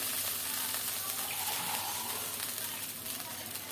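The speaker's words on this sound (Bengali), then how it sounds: "এখন রান্না করার জন্য পরিমাণ মতো ঝোল দিয়ে দিচ্ছি" Broth poured into a pan of sizzling fried spiced masala, giving a steady, loud, broad sizzle and bubbling hiss that stays dense throughout with no talk.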